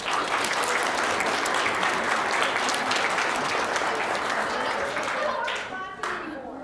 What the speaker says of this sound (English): Give yourself some applause for that.